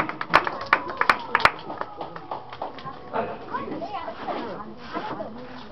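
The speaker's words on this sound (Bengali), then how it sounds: "জোর হাততালি" Applause from an audience at a prize-giving ceremony after a first-prize winner is announced, a moderately loud patter of many hands mixed with a few sharp nearer claps, fading into a looser scattered clatter with children's voices in the background.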